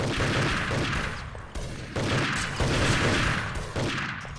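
Gunfire in a video game esports match, France versus Australia in a Nations Cup grand final: loud bursts of rapid shooting in several waves, each separated by short gaps, with no voices over it.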